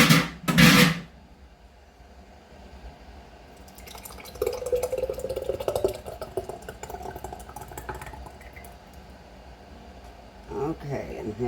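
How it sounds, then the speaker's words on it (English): Thick spaghetti sauce glugs and trickles steadily into a glass jar, with soft clinks and a brief voice before the pour. "I'm just going to pour it in there."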